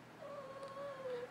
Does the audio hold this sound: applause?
no